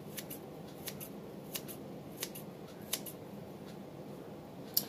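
Scissors snip cleanly and softly while salad ingredients are cut for an antipasto salad, a handful of separate cuts at irregular intervals over a quiet room hum.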